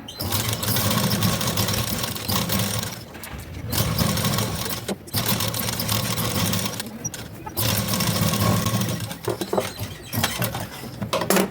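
A sewing machine runs steadily, close and loud, stitching the neckline of a blouse, with a fast, even whirr broken by a few brief pauses and restarts and no talk.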